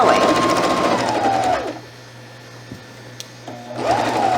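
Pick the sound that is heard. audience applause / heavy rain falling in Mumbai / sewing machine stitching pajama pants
sewing machine stitching pajama pants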